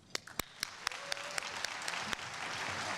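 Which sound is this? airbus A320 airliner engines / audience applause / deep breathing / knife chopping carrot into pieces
audience applause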